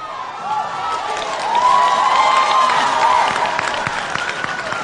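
A church congregation at a midweek service in Pretoria claps and cheers together, a loud, sustained wash of applause and raised voices that swells midway and stays dense to the end.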